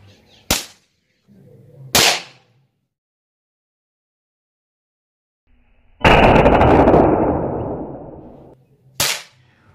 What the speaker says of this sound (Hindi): उंगली पर इसको बांध करके इसको इस प्रकार से ज़ोर से खींचना होता और होता है धमाका